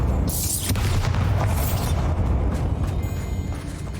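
A Bombarda spell explosion in the video game Hogwarts Legacy: a loud, booming blast with crackling debris and a rumbling tail that slowly fades.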